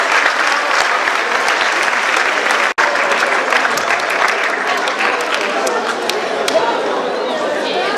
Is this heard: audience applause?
yes